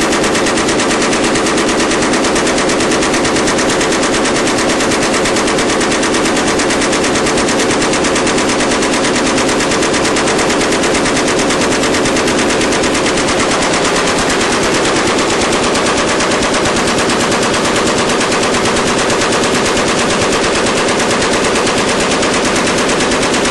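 Machine gun firing at about 850 rounds per minute, a loud, close, unbroken stream of rapid shots that continues for over twenty seconds with no pauses.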